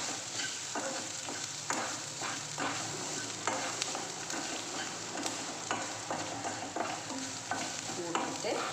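Onions sautéing in a pan for karamani curry, sizzling steadily with frequent stirring and scraping of the utensil against the pan, continuous and close, with no voices.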